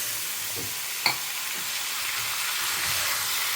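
Chopped tomatoes hiss and sizzle steadily in a hot pan, with a soft stirring clink near the start and a continuous frying crackle throughout, no voices.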